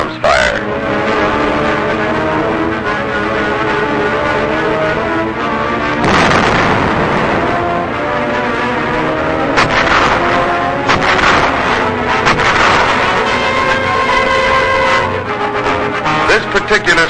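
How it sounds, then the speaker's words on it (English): Explosions and small arms fire during 1945 combat on Okinawa, with continuous rumbling blasts and cracking shots, loud and close, under a narrator's voice. "These are reduced individually by explosives and small arms fire."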